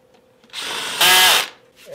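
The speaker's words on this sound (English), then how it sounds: "Should always use a cordless drill because sometimes you can't get them tight enough with a hand screwdriver" A cordless drill drives a screw into a wooden hi-fi stereo rack, giving a brief whir that rises in pitch and cuts off after about a second, close and loud.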